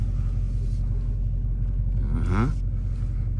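A Dodge Hellcat Widebody Jailbreak rumbles low and steady from inside the car in heavy traffic, with a brief rising engine note near the end.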